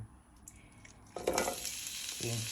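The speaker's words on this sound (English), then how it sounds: "I'm adding my onions. Using coconut oil." Onions hitting hot coconut oil in a pan for jollof, a sudden crackling sizzle that starts partway through and keeps hissing steadily, with a brief clink of utensils near the end.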